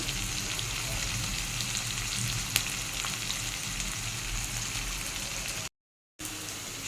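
Finely chopped onions and green chillies frying together in a pan with salt, a dense continuous sizzle close by, briefly cut off near the end before resuming.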